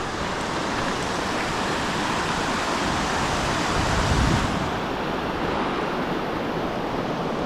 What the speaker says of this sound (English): we're going to take a look at this creek